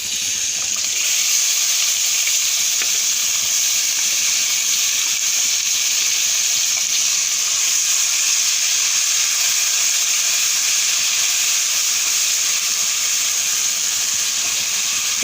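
Onions and green chillies drop into hot tempering oil for a country-egg curry and hiss steadily. The sizzle stays loud and even for the whole stretch, with no voices.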